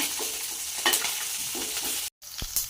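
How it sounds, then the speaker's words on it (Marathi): Green chilies dropped into hot oil in a pan for Mumbai-style batata poha, a close, steady sizzle with a few stirring scrapes, cut by a brief gap near the end. "हिरवी मिरची जी घेतलेली आहे ती टाकून घेते"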